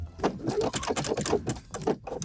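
A domestic sewing machine stitches a zigzag lightning bolt stitch on light fabric for panties, its needle chattering in rapid irregular bursts with brief pauses, close and fairly loud, with no talking.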